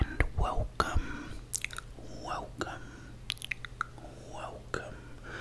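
Close, soft chewing of a Cathedral City cheeseburger, with moist bites and mouth sounds recurring irregularly, alongside faint whispering.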